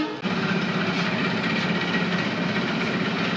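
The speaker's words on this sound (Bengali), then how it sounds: "আবার ওই যে ইঞ্জিনটি আসতেছে, এখন ইঞ্জিনটি এইদিকে লাগাবে" The locomotive engine of the Joydevpur commuter train near Dhaka gives a loud, steady, continuous rumble after a brief bump at the start, with no talk over it.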